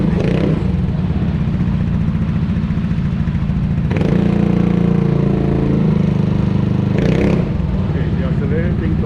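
A vehicle engine revs during a decibel sound level test, running loud and close with a steady rumbling drone that surges and shifts in pitch twice. Voices can be heard alongside it.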